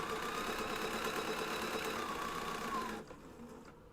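A sewing machine running steadily as it stitches quilt block seams, sashing and cornerstones together, a continuous low motor hum with a fast chatter that drops off near the end; quiet and close, with no voices.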